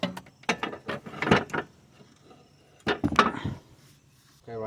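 A ratchet works loose a 17mm motor mount bolt on a 2004–2012 Nissan Murano AWD during an engine swap, giving two bursts of quick, close mechanical clicking separated by a quieter gap, with a third burst beginning at the end.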